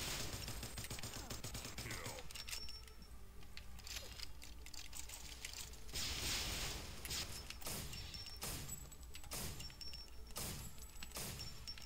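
Video-game gunfire in Pixel Fury 3D comes as repeated sharp bursts and rapid volleys, fairly close, with brief pauses between strings of shots and metallic clatter underneath.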